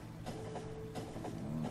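A Factorio train rolls past quietly, giving a soft rumbling hum with faint rhythmic clicking under a low steady hiss.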